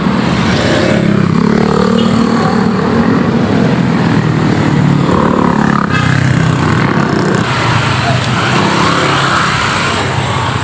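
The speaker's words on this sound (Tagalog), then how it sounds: "Maingay dito, dami kasi sasakyan." Busy street traffic near a mall in Ugong, with cars and motorcycles rumbling and revving past in a continuous, loud roar of engines and road noise, heard from the roadside while walking.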